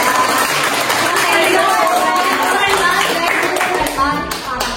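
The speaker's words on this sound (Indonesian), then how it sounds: "Tapi tepuk tangan dulu dong buat Kamanda." A student audience at a school OSIS event claps and cheers in a steady, fairly loud burst that fades slightly near the end, with voices mixed in.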